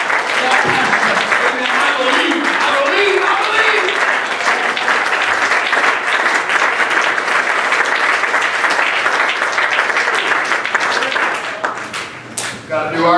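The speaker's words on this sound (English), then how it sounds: "Would you clap your hands right now and testify to the" Congregation clapping hands in a church revival service, sustained applause with scattered cheers and a voice speaking over it, tapering off near the end.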